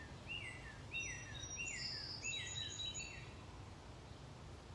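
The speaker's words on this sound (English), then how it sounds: "The birds are so sweet" Small birds chirp in a string of short, bright repeated calls outdoors somewhere in New Hampshire or Maine, fairly faint against a steady low rumble of background noise.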